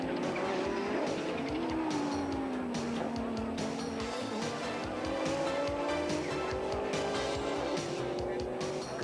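Audi four-wheel-drive race cars of the 1992 Wesbank Series lap the wet Kyalami circuit, engines droning and whining through shifting pitch. Tyres squeal and tyre noise churns steadily underneath.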